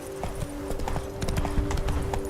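Roach, a horse in The Witcher 3, clip-clops in a quick, steady run of hoof beats over faint background noise.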